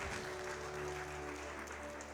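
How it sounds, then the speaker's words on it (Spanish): Church congregation clapping together in steady, dense applause, loud and close, filling the whole stretch with no voices on top. "dale una ofrenda de palmas al Señor"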